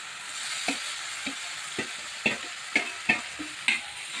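A spatula stirs fried potatoes and sugar into a sizzling kochu flower (taro flower) dish in a pan, making about eight distinct scraping strokes at an uneven pace over a soft, continuous frying hiss.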